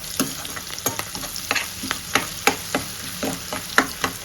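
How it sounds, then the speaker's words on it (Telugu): Onions roasting in hot oil with salt and turmeric as a spoon stirs them: a continuous sizzle punctuated by frequent sharp scrapes and clinks against the pan, close and fairly loud, no voices. "మనకు టైం వేస్ట్ కాకుండా ఆనియన్స్ ఫాస్ట్గా రోస్ట్ అవుతాయి"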